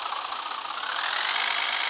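A Scania S 450 truck engine revs up in a driving simulator, a loud, steady mid-range drone that swells and brightens partway through.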